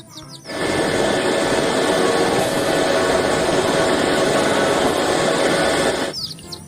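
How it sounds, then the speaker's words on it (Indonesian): A toy helicopter whirs with a steady, loud buzzing drone that starts abruptly, holds for about five seconds, then cuts off. "Di sini ada helikopter."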